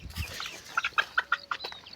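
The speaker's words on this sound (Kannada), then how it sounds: "ಇಲ್ಲಿ ಕೋಳಿ ಮರಿ ಸಿಗಕ್ಕಿದೆ" A trapped young chicken on a farm field gives a series of short, sharp peeping clucks, about eight quick calls close by in the second half, with no talking.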